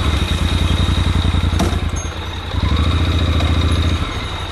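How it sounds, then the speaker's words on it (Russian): Motorcycle engine on a roadside stop during a Montenegro tour, loud close chugging putter that catches and runs steadily, dips briefly mid-way, then picks back up to a rapid idle. "сейчас заведу мотоцикл"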